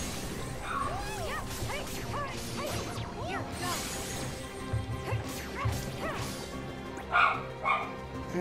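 Dog barking repeatedly, near and fairly loud, mixed with yips and whimpers over a busy background of game music and effects.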